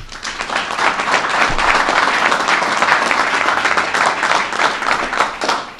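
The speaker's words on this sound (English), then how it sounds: "Let's give them a round of applause." An audience at a state emergency briefing on Lake Ontario flooding gives a round of applause, loud, dense and sustained throughout with no talk over it.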